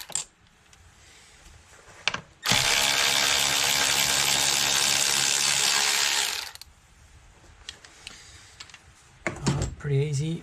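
Hand ratchet with an 11mm socket working loose a tight bolt during a blow-off valve install on a Subaru WRX, a dense continuous clicking burst lasting several seconds, loud and close, with quieter workshop handling noises before and after.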